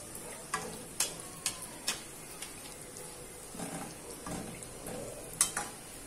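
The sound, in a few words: donuts frying in oil on medium flame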